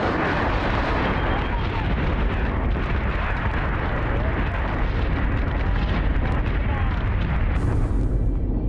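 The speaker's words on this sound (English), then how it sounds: "Broadside guns open up on the nearest base star." Broadside guns firing on a base star in a Battlestar space combat game, a dense roaring barrage of booming blasts that runs on continuously, loud and close, with a brief higher burst near the end.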